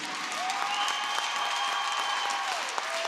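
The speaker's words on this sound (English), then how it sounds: "Please give a big round of applause to the GG seniors." Sustained applause rings out at a women's university hockey game against Bishop's, honouring the team's seniors; steady, dense clapping fills the whole stretch with a faint tone and crowd murmur beneath.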